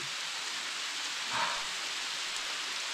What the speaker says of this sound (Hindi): बहुत ज़बरदस्त पड़ रहे हैं ओले छोटे छोटे भाई, बहुत ज़्यादा।